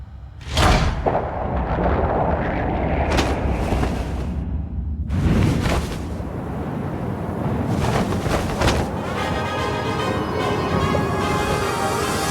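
Bomb blast from a Super Smash Bros. Brawl cutscene over a packed stadium, heavy booming thuds and whooshing bursts in several loud waves, followed by a lingering rumble and swirling tones.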